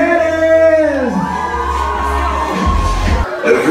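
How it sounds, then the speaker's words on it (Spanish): Women in a concert crowd scream and cheer loudly in answer to a call at a live show, a dense, sustained roar of voices with music underneath. "¿Cómo se escucha el grito de las mujeres?"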